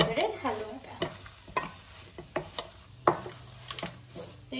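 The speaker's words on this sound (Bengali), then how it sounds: "এইভাবে আমি নাড়াচাড়া করছি" Carrot halwa with cashews and almonds is stirred in a pan, a series of distinct scraping strokes with soft sizzling between them, close and moderately quiet.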